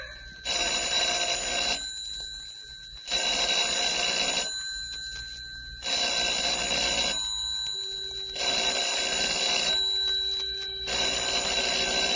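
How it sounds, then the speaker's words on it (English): A telephone rings in long, loud bursts, five rings with brief silent gaps between them, steady and close, in an otherwise quiet space. "Telephone ringing in an empty house."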